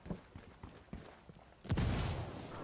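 Frag grenade explosion with scattered gunfire in the video game Ghost Recon Wildlands: a few faint distant shots, then a sudden loud blast whose rumbling roar lingers to the end.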